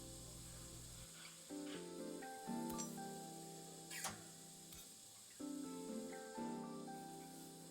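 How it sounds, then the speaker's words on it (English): Steam hissing from leaking pipes in the puzzle game Assemble With Care: steady, quiet hisses that start and stop, mixed with short tonal clicks and faint mechanical rattles, with no talking. "I'll need to connect all the pipes correctly to stop the steam pouring out."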